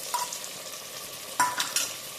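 A spoon stirs vegetable pulao with curd in a pressure cooker, making soft sizzling and a few sharp scraping knocks against the metal pot, close and fairly quiet, with no talking.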